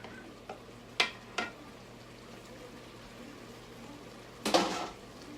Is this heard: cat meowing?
no